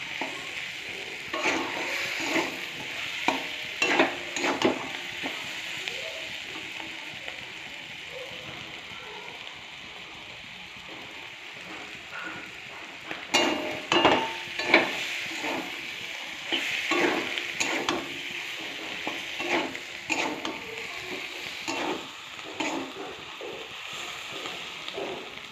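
Mussel curry being sautéed in a pan, a close, steady sizzle broken by repeated scraping stirs that come in bursts with quieter gaps, no speech.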